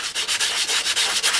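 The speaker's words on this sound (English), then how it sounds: "So basically this is wet sanding with alcohol." Brake parts being wet-sanded with alcohol, a close, steady raspy scrubbing in quick back-and-forth strokes with brief pauses between passes, no talking.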